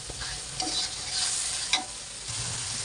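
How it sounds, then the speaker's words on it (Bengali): Salt, turmeric and chili powder fry in oil with other spices, a close steady sizzle broken by a few quick spatula scrapes and taps, with no talk. "এভাবে এক এক করে লবণ, হলুদ, শুকনো মরিচের গুঁড়া ভালো করে মশলার সাথে কষাই নেবো"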